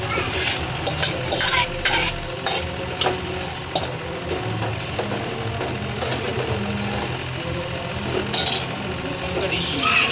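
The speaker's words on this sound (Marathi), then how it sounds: "इथे चालू आहे आता मच्छी फ्राय" Fish, surmai and mandeli, frying in a pan at a busy fish market, a steady loud sizzle with repeated clinks and scrapes of a utensil stirring and turning the pieces, and market background noise throughout.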